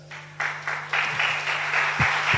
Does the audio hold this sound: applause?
yes